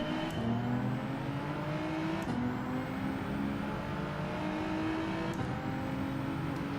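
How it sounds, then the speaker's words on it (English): A Genesis race car in Gran Turismo 7 launches from the start and struggles off the line at low revs. Its engine drones loudly and steadily, climbing in pitch with two clear gear shifts. "the Genesis really struggles on that initial launch"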